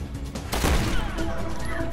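Rapid gunfire from a Resident Evil 6 match on PS4, a sharp burst of shots and impacts landing about midway and trailing into continuous clattering game noise for the rest.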